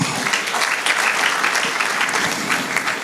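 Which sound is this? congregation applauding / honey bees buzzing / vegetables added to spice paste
congregation applauding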